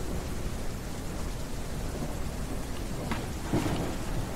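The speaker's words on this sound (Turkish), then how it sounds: "Ya bu yağmur yine başladı." Rain falls steadily in the farming video game Ranch Simulator, a dense, even hiss of downpour with a brief rumble of thunder partway through.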